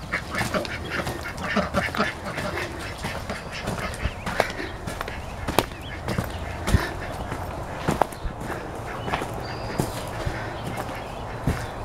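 Backyard ducks quacking near a farm coop, scattered close quacks over a shuffling, rustling background, with footsteps and faint movement.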